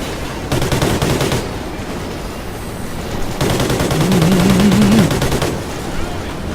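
Gunfire aimed at a helicopter in Call of Duty Ghosts: loud, sustained automatic bursts in two long stretches, separated by a brief lull, crackling close and dense over a low rumble.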